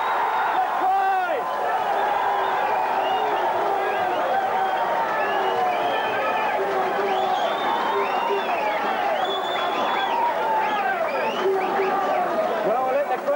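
Dense crowd roar and cheering at a 1982 rugby league test between Papua New Guinea and New Zealand in Port Moresby after a try, a loud continuous swell of voices and whistles sustained throughout.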